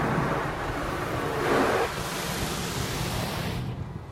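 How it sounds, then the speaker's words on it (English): Spot-free rinse spraying water over a car in an automatic car wash, a broad steady hiss of spray heard from inside the vehicle that swells briefly near the middle, then fades at the end. "I'm guessing that must have been our spot-free rinse."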